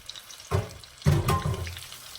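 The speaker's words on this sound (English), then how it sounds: "Wash my hands quickly." Tap water runs over hands at a kitchen sink while cooking chili rellenos, in two short splashing bursts, the second longer and fuller, with a quiet room between.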